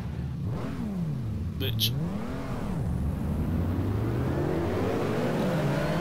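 Race cars revving and passing on a formation lap, engine pitch sweeping up and down in loud, close whines with a steady motor drone underneath, while someone talks over the engine noise.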